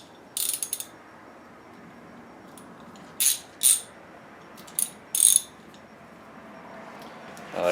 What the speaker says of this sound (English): I'm going to clamp down this this hose